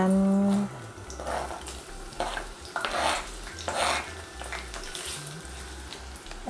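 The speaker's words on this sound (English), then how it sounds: "I'm going to allow my onion fry a little bit." Onions frying and being stirred in a pan for a Nigerian peppered snail sauce, with soft sizzling and scraping strokes at moderate loudness, no voices present.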